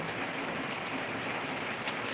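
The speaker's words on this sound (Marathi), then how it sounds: "एवढा सर्व पाऊस आहे बरं का" Heavy monsoon rain in Nanded district, Maharashtra, pours down as a steady, dense hiss of drops drumming on surfaces, close and continuous throughout with no voices.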